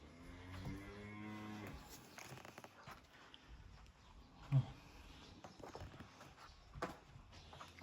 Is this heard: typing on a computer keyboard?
no